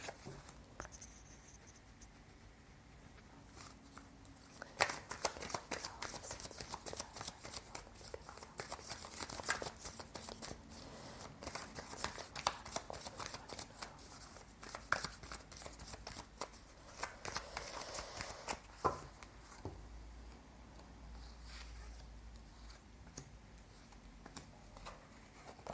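Three tarot cards are shuffled, handled and laid out one by one, giving soft paper rustles, slides and light taps close by at an even, quiet level with no voices.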